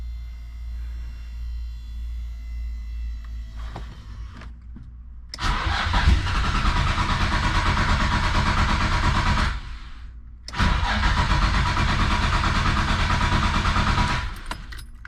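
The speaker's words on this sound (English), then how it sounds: "Now we're going to just try and turn it over to get all those lines cleared out." A Nissan RB26DETT engine with a newly fitted fuel rail cranks over in two loud, sustained bursts of several seconds each, separated by a brief pause, with a low idle-like hum beforehand.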